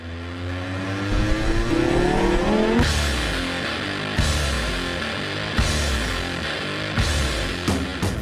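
Lamborghini Gallardo LP550-2 with an aluminium body and chassis and four large exhausts, its engine revving hard in rising sweeps, then several sharp blips that stay loud and close with no talk.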